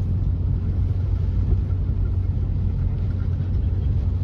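A car pushing through deep flood water during a storm in Horncastle, a steady low rumbling engine and churning wash heard continuously at moderate distance, loud and without talk.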